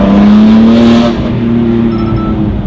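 A loud, high-revving modified engine roars close by, its pitch climbing and holding steady before easing off slightly.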